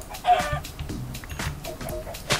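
Chickens cluck in the Minecraft video game, several short game-sound clucks scattered across the moment at moderate loudness, with no talking over them.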